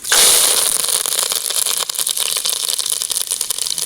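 Mustard seeds crackle and pop in hot oil in a pan, a loud, dense, continuous sizzle with rapid irregular spatters close by, with no talking.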